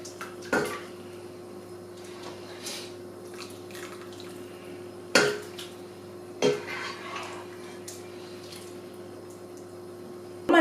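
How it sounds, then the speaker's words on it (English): Vegetable stock for pumpkin soup being drained out of a pot in a kitchen, with soft drips, scattered clinks of cookware and a few sharper knocks over a steady low background hum. "Now I'm draining out most of the stock and just trying to get as much veggies without the liquid."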